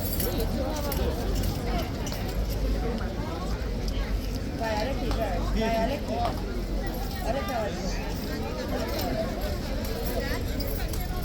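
Horse hooves clip-clop among a dense crowd of more than 500 people, the clopping partly masked by continuous babble and chatter throughout.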